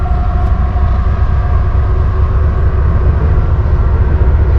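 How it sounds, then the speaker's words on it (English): A train passes nearby with a loud, steady low rumble and rolling drone that fills the whole stretch, close and unbroken, with no talking. "I can hear a train coming right now."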